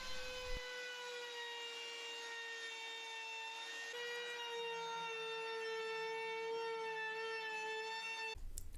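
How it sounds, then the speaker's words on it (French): A wood trim router with a bearing-guided flush-trim bit whines steadily as it trims boards flush against a batten while building extensions for a large square table; the tonal motor scream holds constant and close, shifting pitch slightly midway, then stops. "je vais passer un coup d'affleureuse avec cette fraise équipée d'un roulement à billes"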